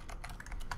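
Quick keystrokes clatter on a computer keyboard while code is typed, around eight crisp close taps in under a second, alone with no talk.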